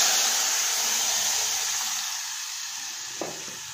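Ground spice paste sizzling in a hot pan, a broad steady hiss that slowly fades over a few seconds, with a single small knock near the end.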